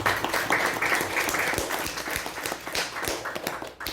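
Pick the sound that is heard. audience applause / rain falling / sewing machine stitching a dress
audience applause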